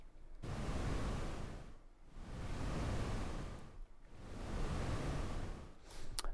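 Synthesized ocean waves made in SuperCollider: three broad, slow swells of filtered noise rise and fall like surf at a calm beach, each separated by a quieter gap, with no voices.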